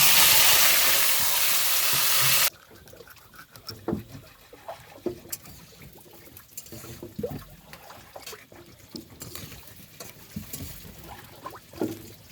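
Oil heating in a hot wok, cooked outdoors by a river, gives a broad hissy burst at first, then settles into faint scattered crackles and pops with no talk.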